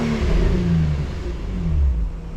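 A Nissan 350Z engine revs up, a steady mid-pitched growl rising and falling in a single close, continuous burst with no talk.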